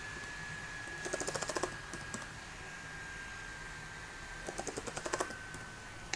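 Quick bursts of computer clicks come in two short rapid clusters with a quiet pause between, close and crisp over a faint steady room hum.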